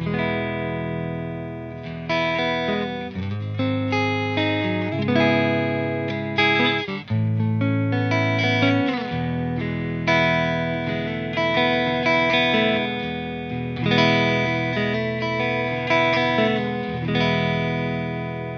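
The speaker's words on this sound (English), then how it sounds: "Let's try it through the Fender Deluxe Reverb." A vintage Fender Telecaster electric guitar played through a Fender Deluxe Reverb amp rings out in strummed chords and picked phrases, bright and reverberant with slight grit, alone and steady for nearly twenty seconds.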